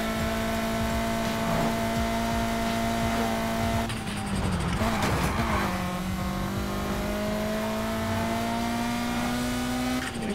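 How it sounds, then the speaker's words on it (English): A BMW's turbocharged engine drones in the racing video game Need for Speed Heat, holding a steady, loud, buzzing tone that climbs slowly. A rough mechanical burst briefly interrupts it midway, and no one speaks. "That turbo sounds horrible"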